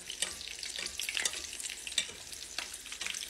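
Tunisian chebtiya sizzles in hot oil in a pan with a steady, close crackle and occasional sharper pops. No talk.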